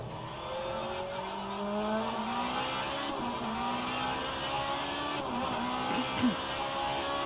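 Alfa Romeo 155 Ti race car in a racing video game, engine droning and climbing steadily in pitch through the gears, with brief shifts and a sharp blip near the end, loud and continuous.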